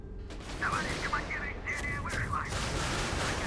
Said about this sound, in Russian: Заряжаем пушку.